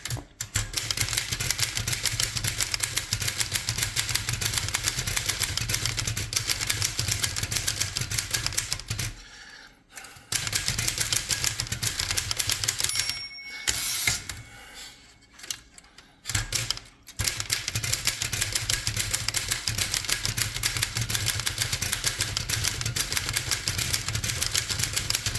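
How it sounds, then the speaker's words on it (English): A Royal 10 manual typewriter with a freshly installed ribbon, typed at a fast continuous clatter of keystrokes close by, with two short pauses partway through. "One fully functional Royal 10 typewriter"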